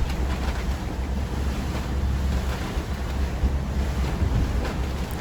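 Strong wind roars and buffets the microphone aboard a sailboat crossing from Grenada to Martinique, while waves rush and spray breaks over the bow in a loud, continuous wash with no voices.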